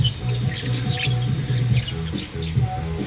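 Small bird chirps and tweets repeatedly in quick bursts over a steady low hum, close by and fairly loud, with no one talking.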